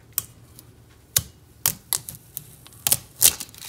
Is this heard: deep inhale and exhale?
no